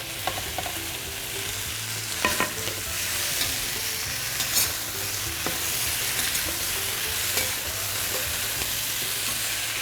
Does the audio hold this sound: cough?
no